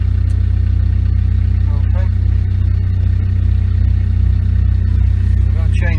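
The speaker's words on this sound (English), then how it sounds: "fires the engine up." A Combilift C4000 forklift's engine runs steadily after start-up, a loud, even mid-pitched drone holding at constant level throughout, with a brief word spoken over it.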